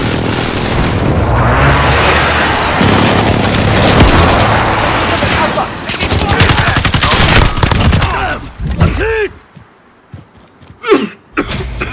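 Precision airstrike in Call of Duty Modern Warfare: dense rolling booms and rapid gunfire crowd together for several seconds before tapering into scattered shots and shouted voices.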